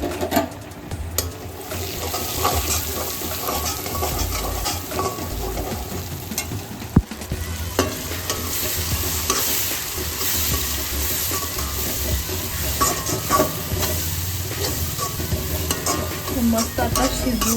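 Mustard seeds and curry leaves tempering in hot oil, a steady close sizzle and crackle that runs unbroken for the whole stretch, with a few sharper pops and kitchen clinks over the hiss.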